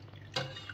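Whey from homemade cheese curds drips through a strainer, one quiet drop landing clearly over a faint steady background hum.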